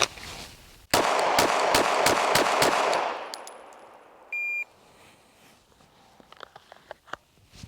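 A shot timer beeps, then a pistol fires a rapid string of about six evenly spaced shots in a Bill Drill at an outdoor range, followed by a shorter beep and scattered faint clicks afterward.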